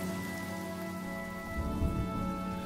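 Steady rainfall in the Honkai: Star Rail video game pours down as a continuous dense patter, with a faint sustained musical tone underneath throughout.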